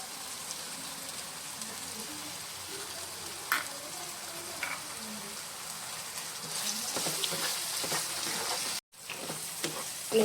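Pav bhaji frying in butter and ghee crackles in a steady, rain-like sizzle, with occasional stirring knocks and a brief dropout near the end.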